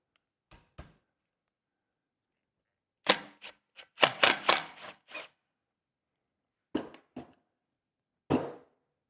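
Wrench working the front rotor nut on a Jeep Gladiator brake job: scattered sharp metallic clacks and ratcheting bursts in a quiet garage, with a dense cluster near the middle and isolated clicks before and after.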